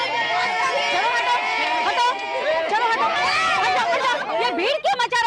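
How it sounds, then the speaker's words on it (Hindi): Noisy crowd commotion, with many voices chattering and calling over one another, loud and close throughout, including some laughter. "ये भीड़ क्यों मचा रखी है?"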